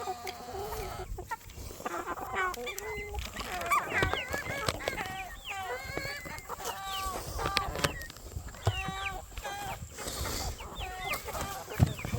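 Chickens cluck continuously up close, a busy flock of overlapping calls, with a person's voice briefly heard among them.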